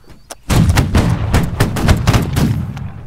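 A rapid volley of loud, close gunfire bursts out after a single early shot, with many overlapping reports cracking in quick, irregular succession during an infantry firing exercise.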